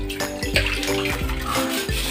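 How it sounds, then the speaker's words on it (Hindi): Water poured from a container into a toilet bowl during cleaning, a close continuous splashing gush with gurgling surges, no talking. "अब मैं इसमें पानी डालूंगा।"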